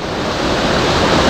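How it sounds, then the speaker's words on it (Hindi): A waterfall pours down at Nathula Pass in Sikkim while light snow falls. It gives a close, steady broadband rush that builds slightly in loudness, with no voices over it. "ये देखिए भाई क्या शानदार वाटरफॉल बह रहा है, ये देखो ऊपर से क्या तेज पानी आ रहा है"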